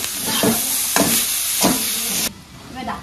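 Garlic and greens fry in a pan with a bright steady sizzle, broken by a few periodic scraping stirs, close and fairly loud, then a sudden drop to a quieter hiss.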